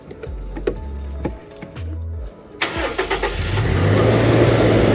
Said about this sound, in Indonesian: Ini suara mesinnya